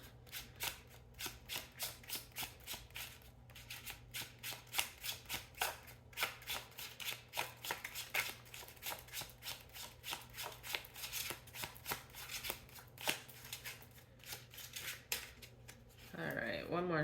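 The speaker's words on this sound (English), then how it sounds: "Alright, one more shuffle." Tarot cards are shuffled rapidly in a steady riffling rhythm, with crisp flicking bursts repeating throughout and a voice speaking softly underneath.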